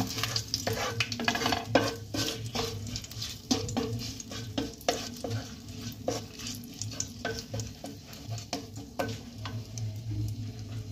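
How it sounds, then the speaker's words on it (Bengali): Cardamom pods and a bay leaf fry in a pan for carrot halwa as a spoon stirs them, with a steady sizzle under repeated scraping and clinking strokes at a close, moderate level. "এবার এটাকেও নেড়ে চেড়ে নেব"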